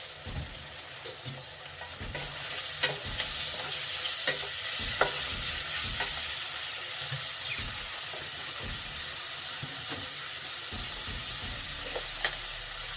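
Potatoes and browned onions for South Indian vangi bath fry in a pan with a steady close sizzle, while a spoon scrapes and stirs in repeated soft strokes throughout, with no one talking.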